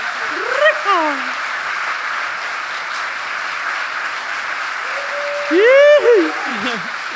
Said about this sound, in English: Please give them one more really warm round of applause.